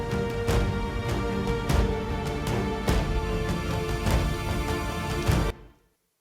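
A full mix of every music stem with percussion, the beat driving steadily through the track with regular hits and a dense sustained backing, loud throughout and cutting off abruptly near the end with no long reverb tail.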